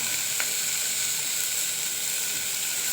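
Steady, bright sizzling of vegetables sautéing in a pan with turmeric and salt, continuous and close, with no talking.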